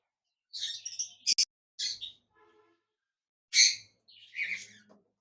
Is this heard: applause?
no